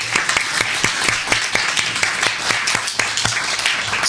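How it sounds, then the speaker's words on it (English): Crowd applause at a debate event, dense rapid clapping from many hands, loud and continuous for several seconds without pause. "A round of applause for her."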